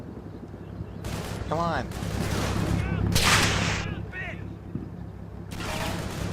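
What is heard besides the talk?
gunfire in Combat Mission: Battle for Normandy video game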